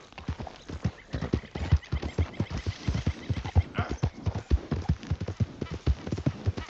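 Horse hooves clip-clopping at a brisk, steady rhythm in Red Dead Redemption 2, close and clear, with a brief whinny partway through.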